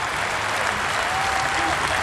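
A Test cricket crowd in South Africa applauds Ben Stokes reaching a double century against England in 2016, a dense, sustained roar of clapping and cheering that stays loud and even throughout.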